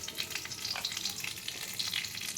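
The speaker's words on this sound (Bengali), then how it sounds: "ফোড়নে দিলাম, কালো জিরে আর কাঁচা লঙ্কা, কালো জিরে ফোড়ন দিলাম।" Black cumin seeds and green chilies tempering in hot oil for a Durga Puja bhog ash gourd dish, a steady close crackling sizzle throughout with no talking.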